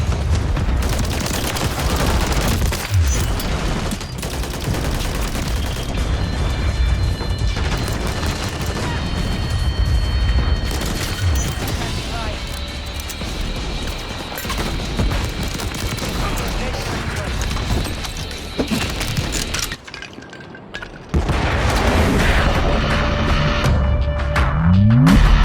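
Sustained gunfire in the shooter Modern Warfare 3, loud rapid bursts and volleys running almost nonstop with a brief lull near the end, mixed with game effects and a person talking at times.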